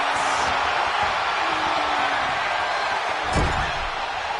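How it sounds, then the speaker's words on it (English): Large arena crowd at a live WWE wrestling event, a steady loud roar of cheering throughout, with a brief thump near the end. "Listen to this crowd."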